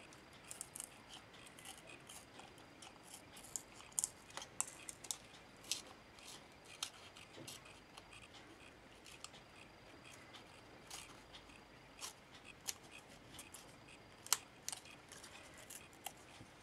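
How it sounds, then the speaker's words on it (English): Small sharp scissors trimming around the edge of a wire for charms snip repeatedly in quick, irregular bursts, crisp little metallic clicks close up against a quiet hiss. "get a nice sharp pair of small scissors and just go around the edge of the wire"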